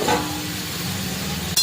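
Boiled taro roots go into a spice paste that has begun releasing its oil, producing a brief, steady close sizzle and hiss of frying that ends with a small clatter.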